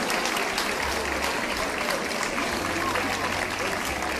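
Dense applause from a large outdoor crowd at a Santo António popular marches parade in Lisbon, a steady, loud wash of clapping that fills the whole stretch without a break.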